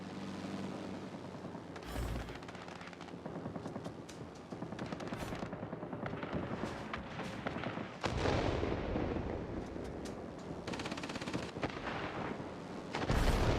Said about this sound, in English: I'm going to use the bombs immediately.